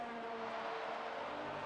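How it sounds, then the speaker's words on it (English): Race cars in a sim racing game at a virtual Brazil circuit, a McLaren dueling an Alfa Romeo, drone steadily at full throttle, a faint, continuous engine whine with no break across the short stretch. "As Riceman goes very defensive, will the McLaren go around the outside here"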